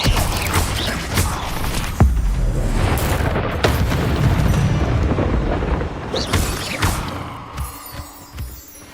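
Fire spell blasts from Incendio being cast in Hogwarts Legacy, a rolling, booming roar of flame and impact that stays dense and loud throughout, with sharper bursts standing out along the way.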